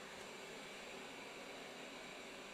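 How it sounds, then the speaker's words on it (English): A small robot vacuum hoovering and mopping in a house runs as a steady, faint, even whirring hiss that holds without pause. "I don't know if you can hear my little robot going off downstairs."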